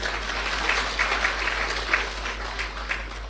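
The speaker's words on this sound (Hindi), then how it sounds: "ताली बजाओ अपने लिए।" Audience at a Brahma Kumaris yoga and meditation gathering applauds, a steady, diffuse round of clapping from many hands lasting about three seconds, with a low electrical hum underneath.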